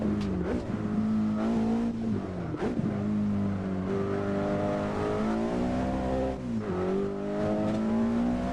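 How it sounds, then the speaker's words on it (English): Volvo S60R with 300 horsepower, six-speed manual and all-wheel drive in a racing video game: a loud, continuous engine drone that rises and falls through gear shifts, with brief dips between revs. "This Volvo is the S60R, my friend. It has 300 horsepower, 6-speed manual transmission, all-wheel drive"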